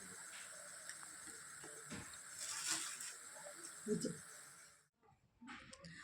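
Food fries in a pan for a khichuri meal, giving a steady sizzling hiss while someone talks, then the sizzle cuts off abruptly near the end.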